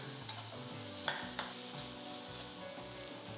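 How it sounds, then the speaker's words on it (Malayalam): Chopped tomatoes sauté on high flame for a soya butter masala, sizzling steadily in the pan while a spoon stirs them with a few scraping knocks. "ഹൈ ഫ്ലെയിമിൽ ആ ടൊമാറ്റോസിൽ നിന്ന് വെള്ളം ഇറങ്ങുന്ന ഒരു പരുവത്തിന് കുക്ക് ചെയ്യുക"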